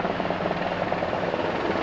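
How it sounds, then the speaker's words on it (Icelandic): A helicopter flies low up the gorge below Gullfoss waterfall, its loud, steady rotor and engine roar filling the whole stretch without any break. "Upp gljúfrið í algjöru lágflugi kom þyrla fljúgandi upp fossana og beygði síðan"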